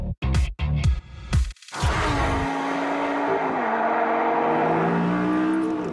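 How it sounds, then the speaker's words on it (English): An Audi R8's 5.2-litre V10 fires up with a few sharp blips of the throttle, then settles into a loud, steady, burbling idle close by. "the majestic V10."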